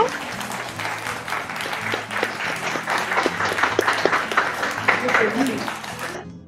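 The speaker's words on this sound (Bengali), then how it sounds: "ওকে, হাততালি হয়ে যাক ওনাদের জন্য।" Applause breaks out for contestants at a wedding-special family game show in a Jhargram store, a lively burst of clapping from a small crowd with a voice talking underneath, ending abruptly.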